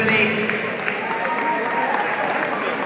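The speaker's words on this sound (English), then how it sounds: "How about a round of applause for Lee Shell and Tiffany?" Crowd in the stands at an amateur boxing match applauds a female novice bout, a continuous wash of clapping that holds steady from start to finish.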